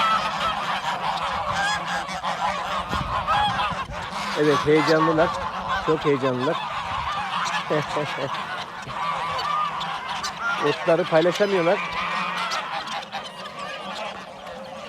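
A flock of geese honks loudly and continuously, with excited overlapping calls, while someone talks and laughs over them.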